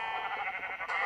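Sheep bleating in the video game Minecraft, a dense, steady overlapping chorus of many animals held close and loud for the full second, with no talk over it.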